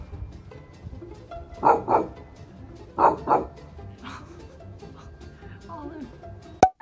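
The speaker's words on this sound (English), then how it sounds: "When your dog barks from both ends." A dog barks from close by in two quick double bursts, the pairs spaced over a second apart, followed by quieter squeaky whines, a soft tonal wavering sound and a sharp click at the end, with low background noise throughout.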